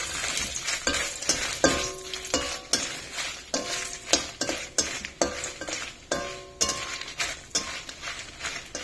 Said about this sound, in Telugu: కొద్దిగా ఎండుమిర్చి వేయించుకున్నాం, కొంచెం వేగంగా.